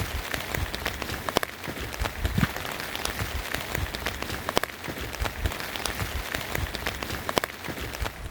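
Steady rain patters down across a campsite on a day of changeable weather with hail, a dense continuous hiss of drops striking surfaces close by, with scattered louder taps and no voices.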